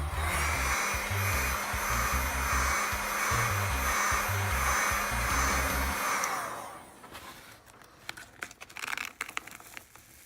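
A heat gun blows loudly and steadily while warming a Onewheel traction pad during removal, then cuts off, leaving quieter crinkling and peeling sounds of the pad being pulled back.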